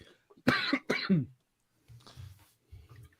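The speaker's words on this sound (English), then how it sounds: "You should tend to that cough" Two harsh throaty coughs up close, then quieter rasping breaths and throat sounds, voiced as a pirate captain in a tabletop role-play session.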